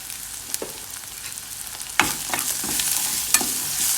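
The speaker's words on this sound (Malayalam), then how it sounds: "നന്നായിട്ട് വഴറ്റുക." Asafoetida and salt are sautéed in a pan for a banana-leaf kozhukatta filling. A quiet sizzle swells into louder frying after a sharp stirring scrape, with a few more scattered spoon scrapes.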